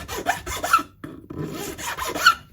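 A guitar neck's fretboard on a punk-style Telecaster being re-radiused by hand with a scraper, giving close, rough rasping strokes in two bursts separated by a short pause.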